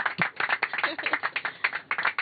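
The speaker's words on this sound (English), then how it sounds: "I don't think I'm ready for clapping yet." Aboard the International Space Station during a crew welcome after Crew Dragon docking, a few people clap in a quick, uneven patter of distinct close hand claps, with no voices over them.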